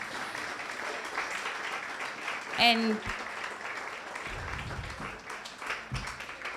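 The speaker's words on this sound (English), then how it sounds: "So with a very big round of applause, please let's welcome" An audience at the 2019 Women in PR summit in Ghana claps steadily throughout, a dense, moderately loud patter of many hands, while a voice briefly speaks over it.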